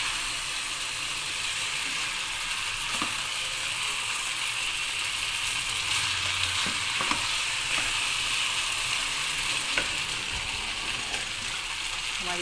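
Egg noodles sizzling and frying in a pan while being stirred, a constant loud hiss with occasional scraping clicks of the utensil against the pan, close up.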